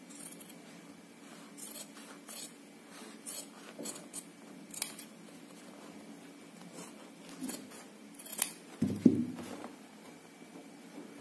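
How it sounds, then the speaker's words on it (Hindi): Scissors snipping fabric along a marked line spaced one inch apart for a sewn neckline design, with quiet, intermittent close cuts and soft rustling of cloth. "ये जो 1 इंच के फासले पे मैंने मार्किंग की थी मैं उस पे ही काट रही हूँ।"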